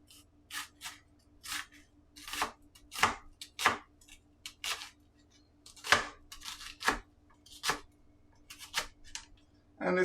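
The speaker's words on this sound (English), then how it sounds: "when you cut it this way, now they just separate and they turn into little pieces" A kitchen knife chops ingredients on a cutting board for a breakfast casserole, a series of sharp, irregular close thunks, some in quick pairs and clusters, over quiet background with no talking.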